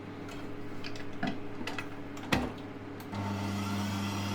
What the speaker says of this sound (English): And then put the whisk back on, and we're going to mix it for another minute just to make sure all the sugar is incorporated.